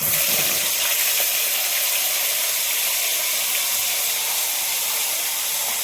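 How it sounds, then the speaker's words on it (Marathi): Spice paste sizzling and frying in hot oil with mustard seeds and cumin for a cauliflower curry, a steady loud hiss and crackle that runs unbroken throughout with no talk. "आपला मसाला मस्त तेलात भाजल्या चालला, म्हणजे परतल्या चालला"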